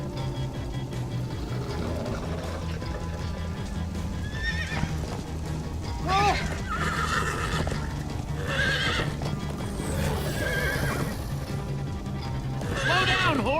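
Horses in the Minecraft Story Mode video game neigh and whinny repeatedly over steady galloping hoofbeats, with game music and characters talking throughout.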